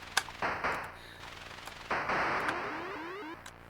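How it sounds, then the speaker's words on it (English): Shooting in the Intellivision video game Atlantis, with noisy bursts of retro electronic blasts, two longer crackling blasts with descending sweeps, all loud and synthetic-sounding. "You can either use your crosshairs like this to shoot with your side buttons,"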